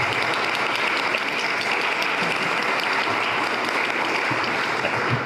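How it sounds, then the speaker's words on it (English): A crowd gives a sustained, full round of applause for a panel at a community conversation on the future of education. The clapping is loud, dense and steady throughout, with no voices over it. "Could you give a round of applause to our entire panel"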